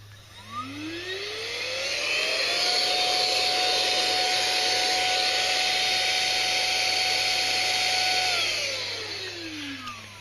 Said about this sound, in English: it has a blow pipe here for blowing things around